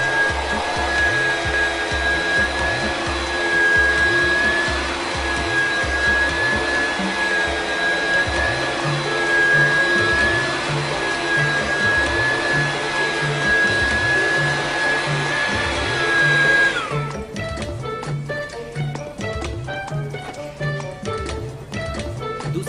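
A vacuum cleaner runs steadily and loudly with a sustained whine for most of the stretch, then near the end the tone changes and gives way to choppy, broken noise.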